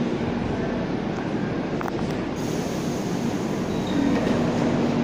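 Metro train car No. 0271 heard from inside the driver's cab while running, a steady, close, loud rumble of wheels and motors that holds unbroken throughout with a faint tonal whine on top.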